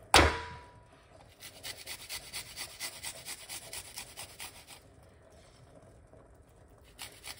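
Garlic or cloves rasp against a grater in a fast, even scraping rhythm after one sharp knock, close and fairly loud, then fade to quiet near the end with no voices.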